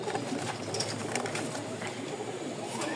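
A pair of sky-blue Gorra pigeons coos close by, soft throaty calls repeating in quick succession over light background noise.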